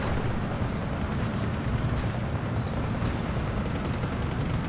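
Autocannon fire in the World War II strategy game Steel Division 2 cuts down infantry pioneers, a dense, continuous roar of rapid shots and explosions with no pauses.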